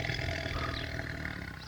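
A tiger roars in a long, loud, rumbling growl that fills the moment and fades at the end, with no talk over it.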